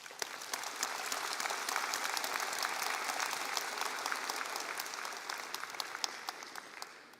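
Sustained, dense applause from a graduation ceremony audience thanking behind-the-scenes staff, steady and full for about seven seconds with scattered sharp individual claps standing out.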